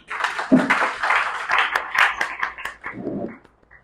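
An audience applauds lawyers at a law lecture, a burst of clapping and cheering that builds for a few seconds and then tapers off.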